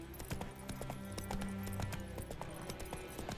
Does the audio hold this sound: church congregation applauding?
no